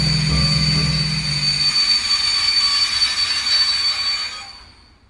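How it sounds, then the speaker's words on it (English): A train's wheels screech steadily in a high metallic squeal as it brakes to a halt, the low rumble fading out at the end. "Then it suddenly stopped with a rusty sound on the wheels"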